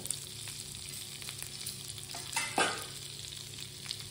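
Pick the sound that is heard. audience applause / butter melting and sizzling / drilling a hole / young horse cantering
butter melting and sizzling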